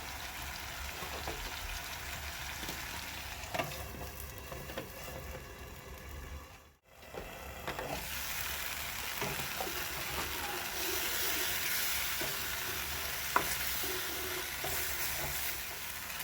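Fish stew with tomatoes simmering under a lid in a pot, a soft continuous hiss and faint bubbling with occasional light clicks and a short dip in the middle, with no talking over it.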